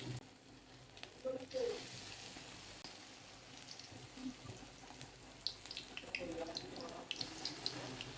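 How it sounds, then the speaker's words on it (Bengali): Noodle pakora batter dropped into hot oil, a quiet, continuous fizzing sizzle with soft crackles scattered through it, heard from a little distance. "এখন একদম গরম গরম তেলে ভাজে নেব।"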